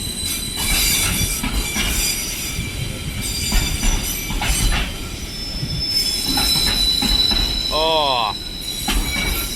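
A Maritime Class 66 diesel freight locomotive hauls a long intermodal train through Newcastle Central station, its loud rumbling wagons rolling steadily past with a sharp wheel squeal rising near the end; a voice briefly exclaims once.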